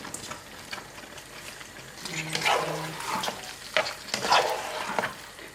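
Boiled pasta being stirred into a white sauce in a pan, giving a soft sizzle under repeated wet scraping and sloshing stirs that grow louder toward the end, with no talking.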